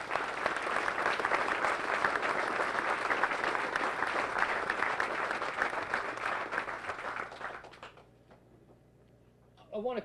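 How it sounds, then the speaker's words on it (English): An audience at a Marine battalion change of command ceremony applauds the 3rd Marine Wing Band with steady, full clapping for about seven seconds before it fades out, then a voice starts speaking. "Let's give them a round of applause."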